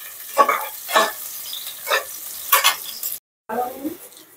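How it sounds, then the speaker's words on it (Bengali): Onion and green chili frying in hot oil with spices for a Bengali bean chachchari, heard as bursts of sizzling and stirring in a steady rhythm, fairly close, with a brief silent gap near the end. "এখন মশলা দিয়ে কষিয়ে নিব।"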